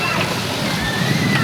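Water churns and bubbles in a hotel jacuzzi, a steady close sloshing wash with faint gurgles, no voices over it.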